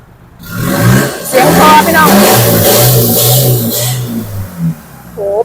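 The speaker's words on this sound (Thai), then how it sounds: "เดี๋ยวจะพาไปเบิ้งของเครื่องเครื่องดีพี่น้อง" A 2015 Isuzu D-Max 2.5 pickup engine revs up hard with a rising roar, then settles into a rough idle; someone talks loudly over it the whole time.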